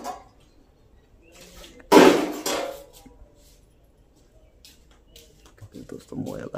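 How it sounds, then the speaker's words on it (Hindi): Pots and dishes being washed give one sharp, loud metallic clatter followed by faint scraping and clinking, with voices nearby. "जल्दी जल्दी बर्तन साफ कर लो"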